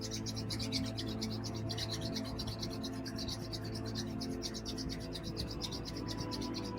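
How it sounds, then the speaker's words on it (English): Palms rubbed briskly against each other during a breathwork and meditation session, a steady continuous swishing friction close by, lasting throughout without pauses or talk. "Now I want you to rub your palms against each other, kindling the chi, life force. Nice brisk rub."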